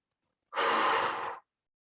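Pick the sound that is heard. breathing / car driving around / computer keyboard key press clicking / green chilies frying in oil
breathing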